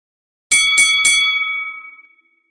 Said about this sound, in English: A bell tinkled.